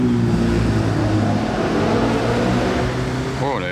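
An Audi RS5 revs on a Monaco street, a loud steady engine drone with strong low harmonics that swell and dip, and a rising pitch sweep as the revs climb near the end.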